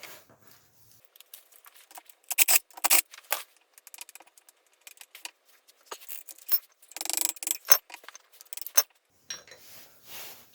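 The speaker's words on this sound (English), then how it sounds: "Pull the screws off." Screws being taken out of a part on a Ford Escort MK1 during an old-car restoration, heard as scattered metallic clinks, rattles and scraping handling noises. The sounds come in irregular close bursts with quiet gaps, and no one speaks.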